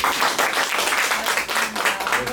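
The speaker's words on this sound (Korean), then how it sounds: "박수 치면서 마무리 짓게요" Applause closing a Korean early-morning fire-insurance lecture: a dense, steady patter of hand claps from a small group of attendees, fairly close, running for a couple of seconds without pause.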